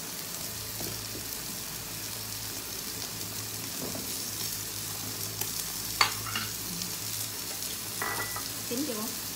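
Octopus grilling on an electric grill, a close, continuous sizzle and crackle with occasional sharp pops and a soft utensil clink, steady throughout with no one speaking.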